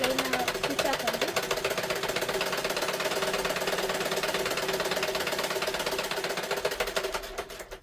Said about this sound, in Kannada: ಈ ಥರ ಇವಾಗ ಇದಕ್ಕೊಂದು ಸ್ಟ್ರೈಟಾಗಿ ಲೈನ್ ಸ್ಟಿಚ್ ಹಾಕೊಂಡು